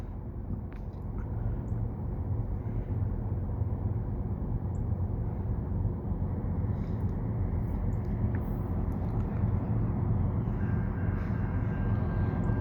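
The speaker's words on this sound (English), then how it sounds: "Sounds like the freight train" A CN mixed freight train pulled by three locomotives, including an old GP9RM, approaches the Lachine Canal bridge in Saint-Henri, a low, distant steady rumble and hum, quiet and continuous with no talk.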